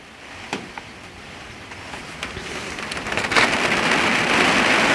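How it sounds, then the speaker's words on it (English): Rain falls on a spring vegetable garden, starting as scattered close drops on a surface and building into a steady, louder patter and hiss over several seconds, with no voices. "Oh, and we're back to rain again."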